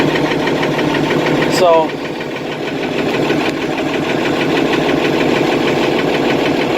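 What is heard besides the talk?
IH 1586 tractor engine idling after cold start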